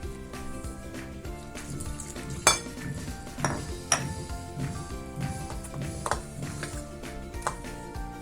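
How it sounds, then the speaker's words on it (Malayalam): Condensed milk mix being stirred with lukewarm water: a spoon scrapes and clinks against the vessel in an uneven rhythm, with a few sharper knocks, close up and with no talk. "ഇളം ചൂടുവെള്ളം ഒഴിച്ച് കട്ട കെട്ടാതെ ഇളക്കിയെടുക്കണം"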